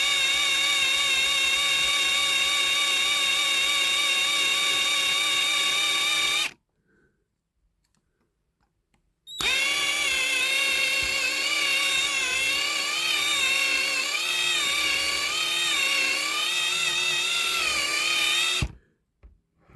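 A small power drill whines steadily as it bores into the plastic part of a diecast Dinky Toys Rolls-Royce Silver Cloud III model, running in two long bursts separated by a few seconds of silence, with the pitch wavering slightly under load.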